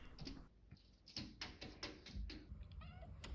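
A house cat meows several times in short repeated calls, close and moderately loud, with light tapping and handling noises around it and no talk.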